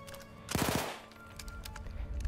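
A short burst of rapid submachine gun fire in the Battlefield 1 campaign, a quick string of several loud shots close by, followed by faint battlefield ambience with scattered distant thuds.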